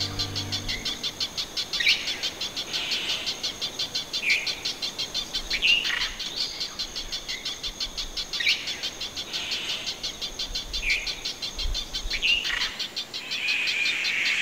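Forest birds chirp and sing repeatedly through a steady bed of high insect buzzing, with short bright calls recurring every couple of seconds in a lively outdoor setting on the island of Principe.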